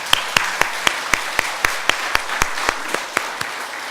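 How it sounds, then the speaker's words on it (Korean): A church congregation claps in encouragement, and the sound is a steady, evenly spaced rhythm of about sixteen sharp claps over a softer bed of scattered applause in a reverberant sanctuary. "한 해 동안 우리 수고하신 모든 성도를 위해서 격려의 박수 한번 했으면 좋겠습니다."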